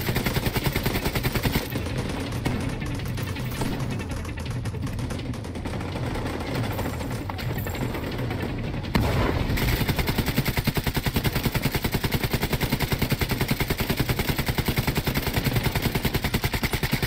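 Sustained automatic gunfire rattles without a break through a shooting video game firefight, loud and dense, with a brief lull near nine seconds before the rapid bursts resume even harder.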